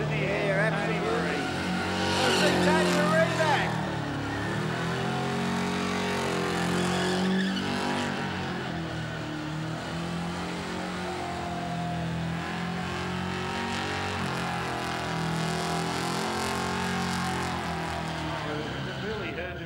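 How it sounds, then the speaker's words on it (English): A burnout car at a Summernats burnout elimination event, engine roaring steadily with tyre skid noise throughout, loud and continuous, with a commentator talking over it. "Good skid."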